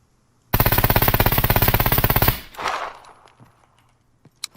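An AS Val rifle in the Scum video game, fired at a target with no rifle skill, lets out one long, loud, rapid automatic burst of around thirty rounds, then a fading echo and a few faint clicks.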